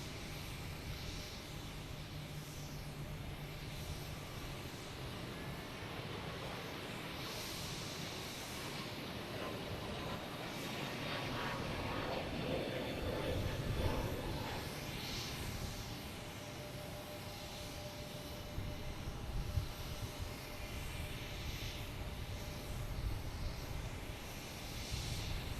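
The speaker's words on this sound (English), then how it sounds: "we got a JetBlue heading to San Francisco, an A321neo. Let me get some sound on this one." A JetBlue Airbus A321neo bound for San Francisco takes off from Boston Logan, its engine roar a broad, steady rumble that swells mid-way and holds, heard from a distance with no talking.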